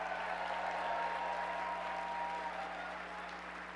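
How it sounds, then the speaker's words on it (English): A large crowd at the 2024 Texas Democratic Convention claps and cheers in a dense, sustained wash of applause that gradually eases over a few seconds. "I just want another cheer for Lauren Ashley Simmons"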